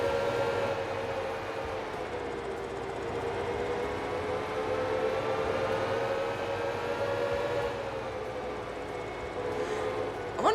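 A sustained, wavering siren-like wail from a video game drones steadily and loudly for the whole stretch, rising and falling slightly in pitch, with no voices.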